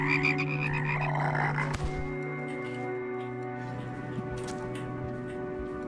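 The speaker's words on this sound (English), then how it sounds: "Oh no, my frogs!" Frogs croak in the video game Rain World, set in a city, with a sustained, low croaking drone layered under ominous, steadily building game music and a sharp hit near the start.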